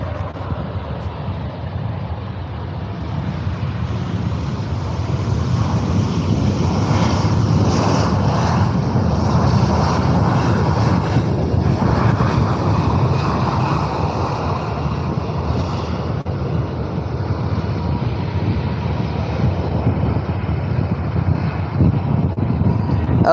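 Air Force One jet aircraft at Faro airport, a loud sustained engine roar rising and swelling in the middle before easing, steady throughout with no break.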